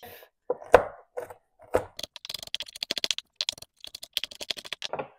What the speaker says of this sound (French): Maintenant, je vais les concasser.